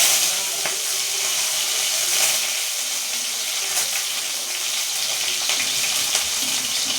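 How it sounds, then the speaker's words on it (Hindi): Garlic added to popped mustard seeds in hot tempering oil: a loud, continuous close sizzle and crackle with a few sharper pops, no voices over it. "अब डालेंगे, राई हमारा तड़क गया है। अब डालेंगे लहसुन।"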